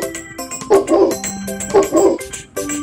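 A cartoon dog in a children's learning game gives a couple of short, bright barks and yips over a bed of playful background music and chimes, with no voices in between.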